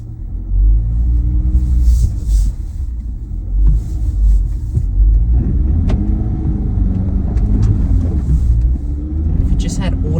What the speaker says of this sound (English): let's try 4H without any diff locks, without any off-road modes and see how far we go up this muddy hill